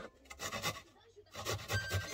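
Garlic is rubbed against a fine kitchen grater in short, quiet rasping strokes, with a voice speaking in the background.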